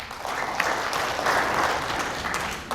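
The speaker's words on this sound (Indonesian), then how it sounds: "Tepuk tangan." Audience clapping at a gathering of Indonesian people's business organization leaders, a loud, continuous roar of applause with a few sharper claps over the top, swelling in the middle and easing toward the end.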